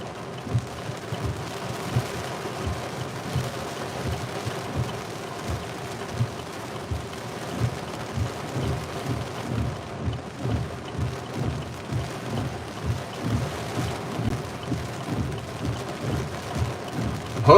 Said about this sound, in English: So far, just some rain, but it's certainly going to get a lot heavier.